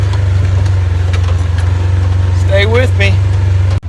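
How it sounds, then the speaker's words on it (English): A Ranger utility vehicle's engine runs in a steady low drone throughout while it is driven across rural ground, with someone talking over it near the end. "So I'm heading back here in the Ranger, doing a little scouting."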